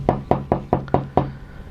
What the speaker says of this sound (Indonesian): diketok pintu seperti itu